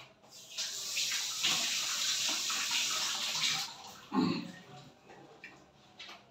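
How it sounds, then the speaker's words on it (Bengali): Tap water runs into a sink as hands are rinsed during home cake baking, a bright steady splash for a few seconds, then a brief louder gush before it quiets. "হাতটা একটু ধুয়ে নিই।"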